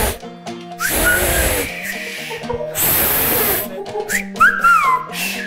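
A person whistles in short, bright, rising and sliding bursts amid loud hissy noise and background music, with gaps between the attempts.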